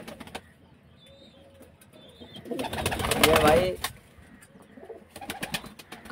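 Pigeons coo softly nearby with low rolling calls and some wing flutters, while someone speaks briefly over them.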